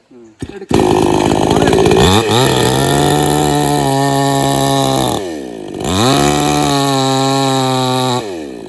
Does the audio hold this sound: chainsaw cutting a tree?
yes